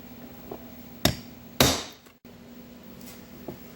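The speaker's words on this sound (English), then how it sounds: "Now we're going to use a hole punch" A hole punch is hammered through a gasket to make bolt holes for a Fordson Major E27N tractor, two sharp close strikes with a brief scrape, then a faint tap or two in a quiet room.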